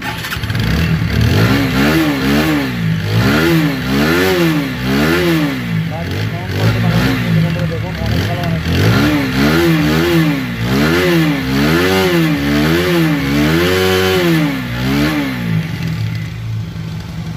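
A second-hand TVS Apache RTR 160cc motorcycle engine running and being revved in repeated rising and falling surges, close and fairly loud, with someone talking over parts of it.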